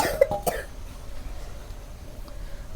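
A couple of short, sharp coughs ring out near the start, followed by quiet room background.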